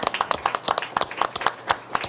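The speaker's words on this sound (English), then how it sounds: "If we could give all of our students a round of applause for their accomplishments." Applause from a school board meeting audience honoring student essay winners, with brisk, dense clapping from many hands throughout, steady and moderately close with sharp individual claps standing out.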